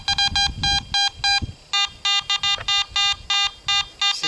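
A metal detector beeps over a brass piece: a quick series of bright, buzzy electronic tones in short, uneven pulses, with rustling and handling noise from digging in the dirt underneath.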